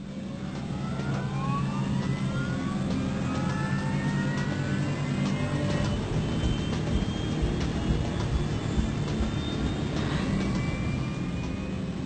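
A Sukhoi jet on runway 6 for a demonstration flight, taking off with a loud, steady engine roar and rising whines that build continuously throughout.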